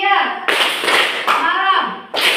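A classroom of Grade 11 students clapping together in a rhythm game, with short bursts of group claps separated by brief pauses and a voice speaking between them.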